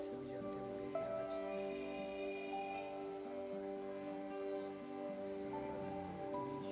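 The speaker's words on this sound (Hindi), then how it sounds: "इतनी सुहानी किस्म की बारिश चल रही है।" Steady rain falls in Islamabad, a continuous even patter on surfaces that holds throughout, with soft tonal music running underneath.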